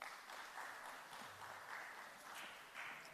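Very faint applause rises from an audience at an afternoon energy session, a soft continuous patter of many hands heard from a distance.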